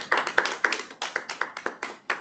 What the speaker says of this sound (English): Can we have a big round of applause for both of them?